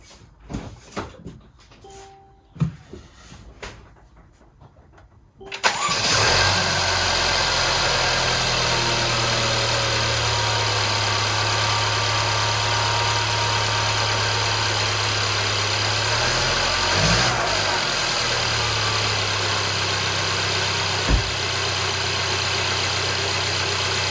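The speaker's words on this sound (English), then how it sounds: "So I'm going to go ahead and start the car." A Mercedes E300 W213 engine cranks and catches after a few quiet seconds of small handling noises, then settles into a steady, loud, close idle hum with a faint brief rise midway.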